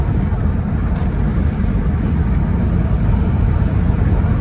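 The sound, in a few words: Ford Falcon XR6 downshifting in performance mode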